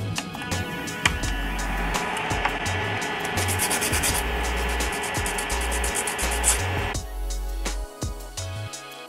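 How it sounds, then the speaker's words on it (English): Steady rough rasping of a nail file shaping and refining the edges of acrylic nails, continuous close strokes with a brief pause near the end, no talking. "I'm gonna go through and crispen the edges of my nails, and then I'll go through with the filing."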